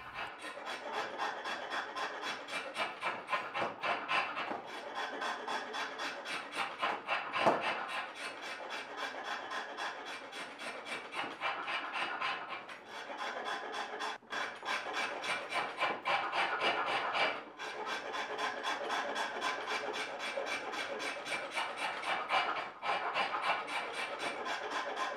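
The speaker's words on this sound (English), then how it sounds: "start whittling down the handle to its final shape. The process begins using a rasp." A rasp shapes a knife handle with continuous rhythmic rubbing strokes, a coarse scraping texture repeating steadily at close range with short pauses between passes and no talk.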